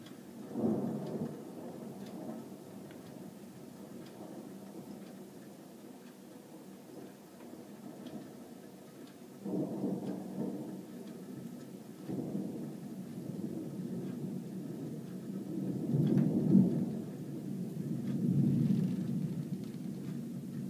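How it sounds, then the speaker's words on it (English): Deep rolling thunder rumbles through a nighttime thunderstorm in February, booming low and long several times with swelling peaks that trail off, alongside a steady wash of rain. "That thunder actually was to the northwest"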